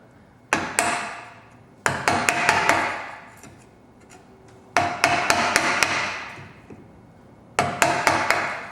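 A mallet drives a chisel into timber to cut out a cross halving joint, working from the top: four bursts of sharp, close wooden strikes, each a quick cluster of several blows, separated by short pauses.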